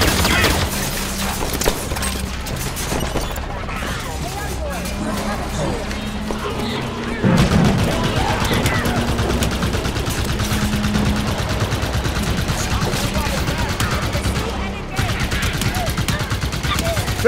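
Rapid bursts of turret gunfire and shooting from the Halo 5: Guardians video game mission, loud and dense throughout, mixed with battle noise and voices talking over it.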